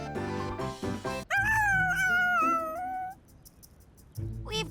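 A cartoon puppy in a children's animated show whimpers with one long, wavering, high whine after a brief burst of other voices, then softer sounds follow.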